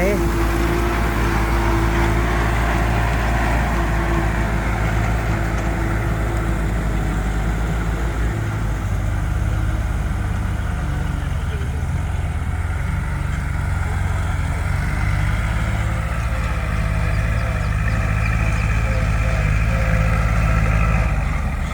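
Tractor engine running at a digging site, a steady low rumble with a faint tonal drone that holds at medium distance throughout, with people talking over it.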